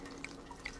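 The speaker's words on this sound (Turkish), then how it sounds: "Şimdi elini damlaların arasından geçir ama ıslanmadan." Water drips in a dubbed film: two clear, quiet drops land about half a second apart, with a fainter drip between them over a low, steady room hum.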